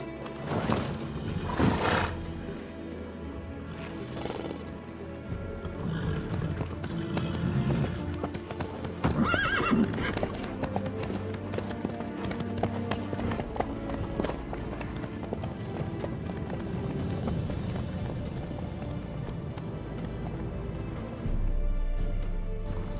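Horse hooves clip-clop at a steady gallop in The Witcher 3, with occasional whinnies, heard close and loud amid a dense game soundscape and music.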